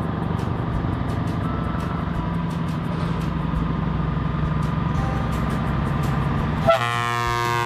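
A toy tronton truck runs with a continuous buzzing motor hum, and near the end a bright, loud, tonal horn blast cuts in.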